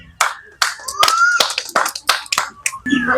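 A handful of people at a game event give scattered, sharp hand claps, about eight separate bursts spread unevenly over a few seconds, with a voice between them.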